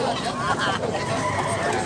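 Tornido hatch gamefowl at a rooster sale in Tabunok, Cebu, crow and cluck amid a busy murmur of people talking nearby.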